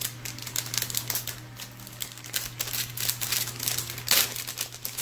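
Continuous close crinkling and rustling as a resealable, Ziploc-like plastic bag holding budget Bluetooth noise-cancelling headphones is handled, with uneven bursts and a louder crackle near the end, no speech.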